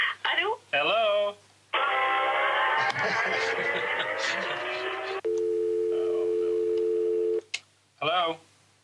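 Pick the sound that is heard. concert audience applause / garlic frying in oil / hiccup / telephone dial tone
telephone dial tone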